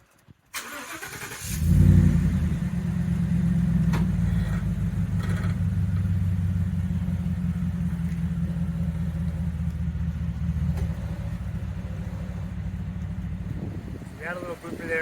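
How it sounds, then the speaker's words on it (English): A pickup truck engine starts and settles into a steady low idle and rumble as the truck pulls out from beneath a 2023 Scout Kenai truck camper, holding steady close by with no talk. "So I'm gonna jump in the truck, drive it out."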